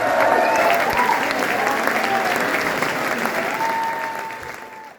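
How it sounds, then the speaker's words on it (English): Applause from a concert audience at a gig in London, a dense, steady wash of clapping and crowd noise that holds loud throughout and tapers off at the very end. "so one more big hand for Peter"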